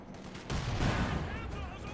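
Gunfire crackles in a skirmish between Pioneers and a Vickers machine gun in the Company of Heroes 2 strategy game, a dense rattle of shots under a brief loud burst.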